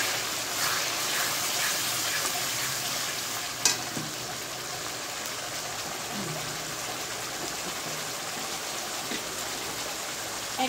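Curry paste of blended ginger, garlic and tomato with garam masala fries in a pan for chicken curry, giving a steady, close hiss and sizzle with occasional stirring clicks.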